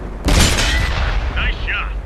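A tank cannon firing in World of Tanks, on a Japanese O-I Experimental super heavy tank: one loud, close boom that rolls into a sustained rumble, with a brief mechanical reload chirp afterwards.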